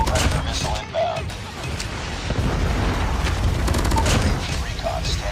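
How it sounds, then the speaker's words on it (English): Predator missile strike in the COD Mobile game on the Havik Sawmill map, a dense rumble of booms and gunfire with a voice speaking over the blasts. "Predator missile inbound."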